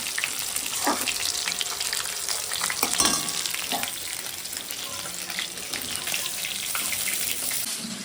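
Spice paste for a chital fish curry fries steadily in a pan, with a dense, continuous sizzle throughout and a few scrapes and clinks of stirring, close and fairly loud.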